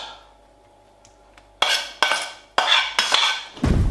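Chicken and shiitake mushrooms are laid onto ramen noodles in a bowl. After a quiet start, several close clinks and scrapes of utensils against the bowl follow in quick succession.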